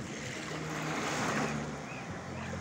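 Baltic Sea waves wash continuously against the shore with a broad, rushing hiss and some wind noise on the microphone, no voices.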